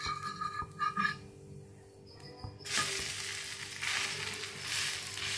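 A lentil and greens adai dosa sizzles on a hot pan, quiet scraping and a flip first, then a louder, steady crackling fry up close with no voices.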